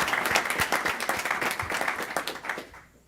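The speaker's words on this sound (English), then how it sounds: "we can clap." At a county board of education meeting, the audience gives a short round of clapping, with individual claps sharp and close amid the crowd, fading out after about three seconds.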